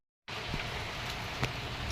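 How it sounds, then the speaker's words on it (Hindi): Heavy rain pouring down steadily, a dense continuous hiss that starts abruptly and holds constant and loud throughout, with a faint knock partway through. "ये देखो बहुत तेज़ बारिश आ गई है हमारे यहाँ पे"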